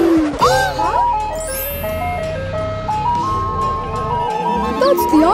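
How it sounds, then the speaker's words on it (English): Ice cream truck jingle plays as a loud, steady melodic tune throughout, from a cartoon camping adventure, with children's voices and other sounds mixed beneath it. "That's the ice cream truck!"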